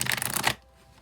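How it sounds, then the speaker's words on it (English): A deck of tarot cards being shuffled, a quick run of close riffling card flutter lasting about half a second before falling quiet. "I'll shuffle till the deck feels ready, then I'll cut and we'll deal right off the top"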